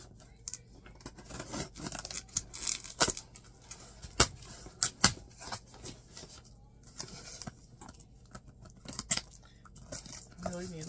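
Scissors snip and slice through wrapping while birthday presents are opened at home, a run of sharp close cuts and rustles of paper at an irregular rhythm, with a voice speaking at moments.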